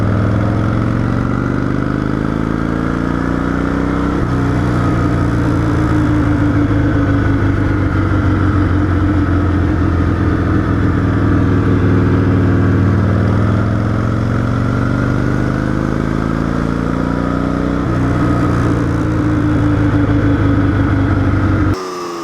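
A restored Harley-Davidson AMF Shovelhead Lowrider motorcycle engine on a ring-seating test ride, a loud continuous rumble that rises and falls in pitch through several pulls, heard close and alone.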